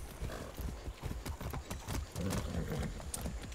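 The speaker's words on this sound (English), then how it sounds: "Guess I'll take the horse there." Galloping horse hooves pound in a quick, steady rhythm, close and continuous over a dull background rumble, in the video game Far Cry 6.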